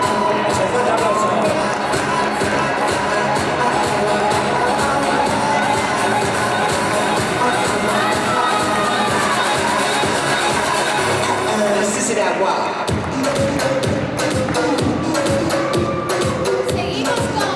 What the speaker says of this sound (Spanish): Ese fuerte aplauso.